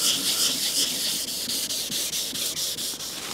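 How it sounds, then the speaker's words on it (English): A TVR 3000 M car door is sanded by hand with 800-grit sandpaper, using a steady, close rasping rub. The strokes repeat in a quick back-and-forth rhythm and no one speaks. "I'm going to sand the whole door with a grit 800, but I will use some wet sanding for this."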